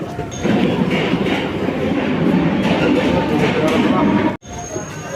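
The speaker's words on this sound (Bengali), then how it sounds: "ট্রেন চলে এসছে।" A passenger train pulls in while people chat nearby on a platform, its steady loud rumble and wheel rattle filling the scene before a brief sharp break in the noise.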